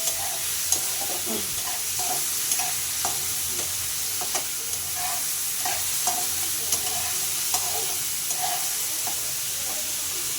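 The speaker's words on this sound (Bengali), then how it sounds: "চিংড়ি মাছগুলা আর পেঁয়াজগুলাকে লাল করে ভেজে নেওয়া পর্যন্ত আমি নাড়াচাড়া করব।" Shrimp and onions sizzle steadily in a frying pan while a spoon or spatula stirs them, with light scraping taps repeating through the constant hiss, close and alone without talk.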